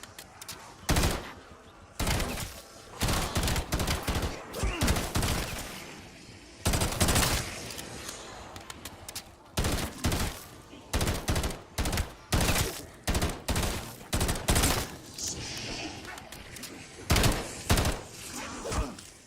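Rapid gunfire from the X9 Maverick in Black Ops 7 Zombies, loud repeated bursts with short pauses between volleys, game sounds mixed in, no talking.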